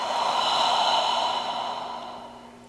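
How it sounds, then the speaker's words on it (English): One long, deep belly breath during a somatic yoga session: a soft, airy exhale that swells early, then slowly fades. It is heard close up with no speech. "Breathe. Deep belly breaths."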